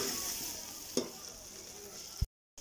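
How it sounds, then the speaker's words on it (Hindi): Food for Peshawari yakhni pulao roasting uncovered in a pan, a soft continuous sizzle with a single spoon scrape near the start and a brief knock just before it cuts off. "अब हम इसे 2 मिनट के लिए अच्छे तरीके से भूनेंगे चम्मच हिलाते हुए बगैर ढक के"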